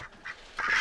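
Ducks give a few short nasal quacks and honks, faint and at moderate distance, with a louder call at the end of the brief moment.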